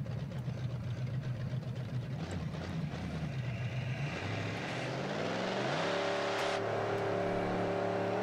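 Drag car in BeamNG launching off the line on nitrous, a loud sustained engine roar with a rising whine as the revs climb and gears pull through, no talking.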